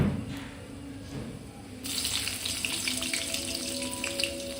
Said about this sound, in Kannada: ಇಲ್ಲಿ ಬೆಳ್ಳುಳ್ಳಿ ಚೆನ್ನಾಗಿ ಫ್ರೈ ಆದಮೇಲೆ